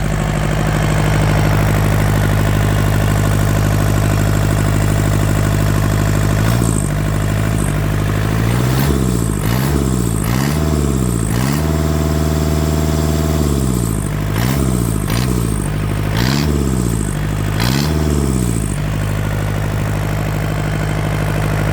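A small Yanmar diesel engine runs steadily, idling with a low chugging rumble, then revs up and down repeatedly in short bursts.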